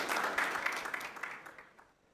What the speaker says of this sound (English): Let's give our panelists a strong round of applause